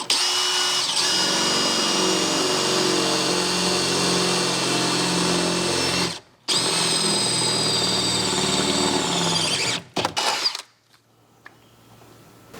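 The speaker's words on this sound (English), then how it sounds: "we have some metal burrs where we were drilling in towards" A power drill bores through the metal door panel of a Chevy Silverado, running loud and steady for about six seconds, pausing briefly, then drilling again until it cuts off near the end.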